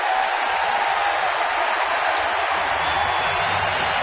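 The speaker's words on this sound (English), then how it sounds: "This crowd is very much into this game." A large baseball stadium crowd applauds and cheers as an inning ends, a loud, sustained wash of clapping and crowd noise with no speech over it.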